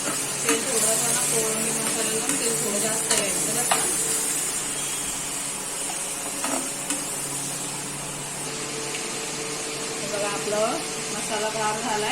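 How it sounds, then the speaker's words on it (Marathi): Prawns sizzling in hot oil, a steady crackling hiss that runs throughout, with a few scraping stirs and some soft background noise. "आता कोळंबी तळून घेते"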